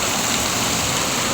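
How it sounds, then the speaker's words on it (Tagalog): Heavy rain pours down in Tondo, Manila, a dense and steady wash of drops lasting the whole moment, with no voices over it. "Malakas ulan, no?"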